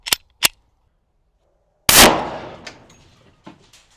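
A 10mm pistol fired at a 45-pound steel plate: two short, sharp clicks, then one loud, close crack that rings and decays for about two seconds, followed by faint scattered taps.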